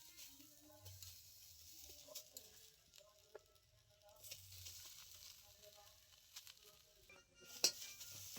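Squeezed bottle gourd greens cook dry in a wok with a faint, close sizzle, broken by light stirring scrapes and a few soft pops.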